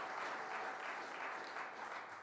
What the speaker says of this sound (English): Let's give a round of applause to Congressman Brian Higgins